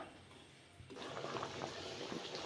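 A spicy village-style elephant yam kuzhambu bubbles in a pot; after a quiet start, soft continuous bubbling and simmering rises and carries on, close and fairly faint.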